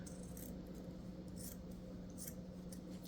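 Scissors snip through ribbon at an angle, a few quiet crisp cuts spaced out over a low steady background hum.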